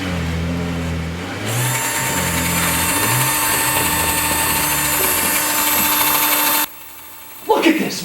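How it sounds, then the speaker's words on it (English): A power drill whines loudly and steadily for several seconds, with a low hum and voices underneath at the start, then cuts off abruptly before a brief clatter. "That's my son's head your goons are drilling into right now."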